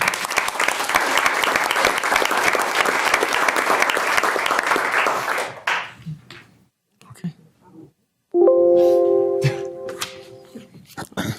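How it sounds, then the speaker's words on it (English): Loud, dense applause fills a city council meeting for several seconds, then cuts off into near quiet broken by brief rustles and a sustained tonal buzz. "just one more round of applause"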